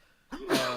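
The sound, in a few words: sneeze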